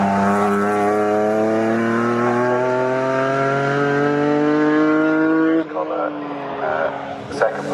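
Mazda MX-5 race cars on track at Snetterton, a loud sustained engine drone with rising pitch as a car accelerates close by, then cutting off abruptly into quieter mixed track noise.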